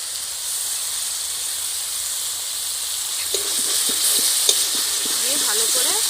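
Ginger-garlic paste and green chili paste sizzle and hiss steadily as they fry in a reddened onion gravy for doi katla, with stirring scrapes and crackles growing busier toward the end; no talking.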